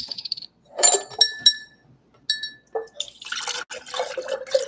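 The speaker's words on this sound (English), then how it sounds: "I'm going to mix this ginger lemonade with this orange peach mango" Ginger lemonade and orange peach mango juice poured together into a glass, with bright clinks of glass, trickling and splashing liquid in short bursts, then a steadier pour at the end, close and alone.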